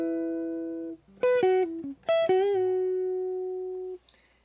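Country-style electric guitar fill, a few clean picked notes with quick string bends rising and falling, the last note ringing out long and clear, played alone.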